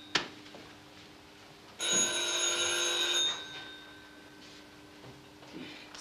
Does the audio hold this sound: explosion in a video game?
no